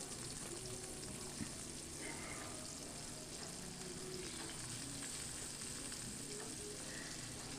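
Potato, carrot and radish pieces frying in a pan for a mixed-vegetable labra dish, a steady soft sizzle that continues with no one talking.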